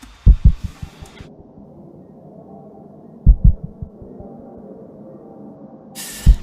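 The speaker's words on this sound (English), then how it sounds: "along with the heartbeats, sound like this" Heartbeat sound effect in a song: deep, thudding lub-dub pairs under a low hum, one cluster at the start, another around the middle and a last beat at the end, with sparse gaps between.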